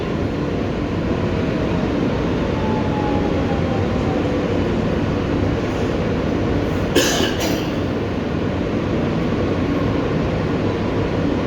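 An R160B Siemens Q local subway train rides along the BMT Brighton Line between Kings Highway and Sheepshead Bay, a loud continuous rumble of wheels and car noise heard from inside, with a brief rattle midway.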